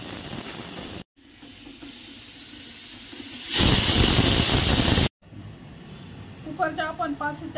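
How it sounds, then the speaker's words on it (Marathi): A pressure cooker holding soaked white peas and potatoes lets out a loud, steady steamy hiss for about a second and a half between quieter kitchen sounds, with a voice faintly present near the end. "कुकरच्या आपण 5 शिट्ट्या करून घेतलेला आहे"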